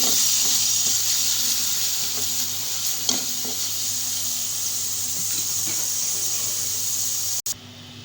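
A teaspoon of garlic sautés gently in hot oil in a pan, giving a constant close, even sizzle broken by occasional light spoon scrapes, with a sudden brief dropout near the end.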